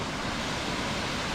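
Waterfalls beside a mountain path on the Isle of Skye ridge give a steady, dense rushing hiss, even and continuous, with no voices.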